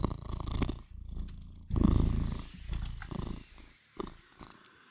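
Cat purring close to the microphone, a loud rough rumbling purr in uneven bursts with short pauses and low grumbles between breaths.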